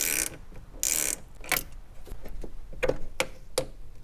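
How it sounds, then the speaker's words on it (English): A 10mm socket wrench ratchets while loosening the negative battery terminal on a Toyota Tacoma, giving a few short, close clicks and metallic taps spaced irregularly against a quiet background. "Now you're gonna use a 10mm socket and wrench to remove the negative terminal."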